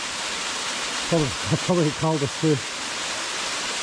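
Steady rushing water from a waterfall pouring into a clear, cold rock-ringed pool in the Victorian High Country, a constant broadband roar with someone talking briefly over it.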